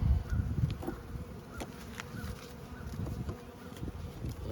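Honeybees buzz steadily in an opened hive during an early spring brood inspection, a dense close drone with no talking.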